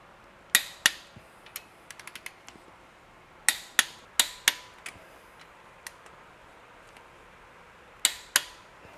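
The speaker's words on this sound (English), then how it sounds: "first torque them to 10 newton-meters and then do the final torque in one sweep motion" Sharp ratcheting clicks from a wrench torquing connecting rod bolts on a crash-damaged BMW E60 M5 V10, heard in close, irregular bursts separated by short pauses, with no talking.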